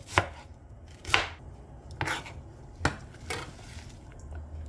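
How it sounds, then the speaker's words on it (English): A knife chops onion on a board in a kitchen, a few distinct sharp chops spaced about a second apart, close and clear with no talking. "The onion, you're just gonna cut."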